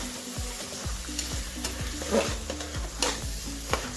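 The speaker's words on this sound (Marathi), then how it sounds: "ते गाजर पण घालून घ्यायचे आणि मिक्स करून घ्यायचं आपल्याला अगदी छानपैकी।" Carrots being stirred into pav bhaji vegetables frying in a pan, a spoon scraping in repeated strokes about every half second over a steady low sizzle, close and alone.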